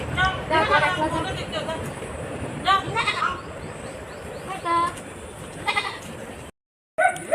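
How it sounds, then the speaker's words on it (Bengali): A goat bleats several times in short, quavering calls, some near and some farther off, while people talk over and between them. "আয় জনি আয় ছাগল আয়"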